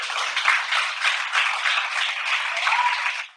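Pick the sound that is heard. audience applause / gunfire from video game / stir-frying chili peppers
audience applause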